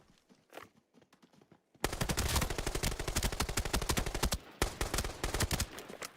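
The U191 rifle from Arena Breakout Infinite fires in long, rapid automatic bursts, loud and close, with a brief pause between strings after a few quieter shots and light movement at the start.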